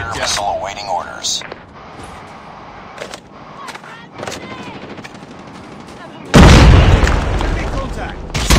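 A missile strike explodes with a loud, sudden, sustained roar near the end in the Call of Duty Mobile multiplayer shooter, after earlier game sounds and voice callouts.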